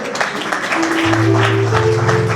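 Congregation applause at a youth church conference in Cape Town, a steady wash of clapping that carries on as sustained keyboard or organ tones rise beneath it partway through.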